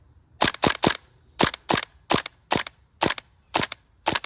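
A PP2K airsoft gas pistol fires about a dozen sharp, close shots, some in quick pairs and some single, running almost the whole way through a magazine while a faint hiss of gas sits underneath.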